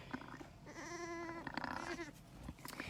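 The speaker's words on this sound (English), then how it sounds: "And even these lambs sound a little bit different than Rosie." Young lambs on a farm bleat nearby, one long wavering cry followed by shorter calls, over a soft rustling background with no talking.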